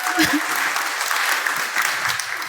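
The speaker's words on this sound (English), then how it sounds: "You can applaud." An audience at a closing event session claps in a brief burst of applause that stays even and close throughout.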